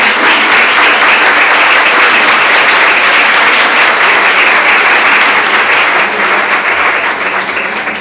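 Sustained, dense applause from a conference audience in a lecture hall, loud and steady for the whole stretch and tapering slightly at the end, with no talking over it.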